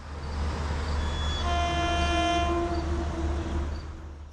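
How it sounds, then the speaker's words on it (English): A Metro North commuter train pulls into Merritt 7 station, its loud steady horn sounding a sustained multi-tone chord for a few seconds over a low rumbling engine drone, then fading. "Metro North train 1889 is seen arriving at the Merit 7 station"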